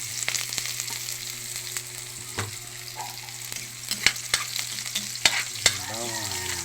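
Ingredients sauté in hot cooking oil with a steady, dense sizzle, while a utensil scrapes and clicks against the pan in scattered sharp taps throughout.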